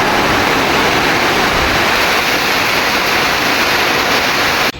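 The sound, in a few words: heavy rain and wind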